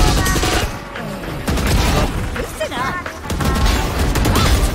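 Rapid video game gunfire crackles in dense bursts, loud and close, with players shouting excitedly over the shots and brief pauses between volleys.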